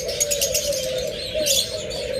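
Creamino red-eye lovebirds in a breeding pair cage, a close, bright run of chirps and twitters over a steady lower cooing tone, brief and continuous.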